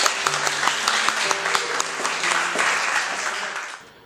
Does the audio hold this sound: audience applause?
yes